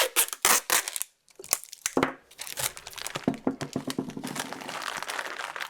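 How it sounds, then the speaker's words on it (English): Plastic crinkles and crackles close up as a bag is squeezed and bunched, in irregular rustling bursts with a brief pause early on. "we're going to kind of bunch up the plastic bag here, and then we're going to tape it"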